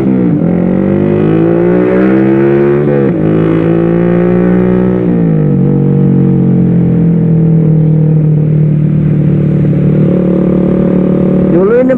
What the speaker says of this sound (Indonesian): Pakai knalpot brong lo bolo